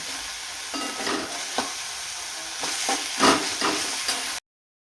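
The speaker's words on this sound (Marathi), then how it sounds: "तर बघू शकता कांदा थोडा परतला आहे." Chopped onion sautéing in a pan for a dal and onion vegetable dish, with a steady sizzle broken by repeated scraping strokes of a stirring spoon, close and moderately loud with no talking.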